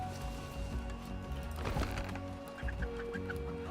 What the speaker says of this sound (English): How are there so many damn chickens now?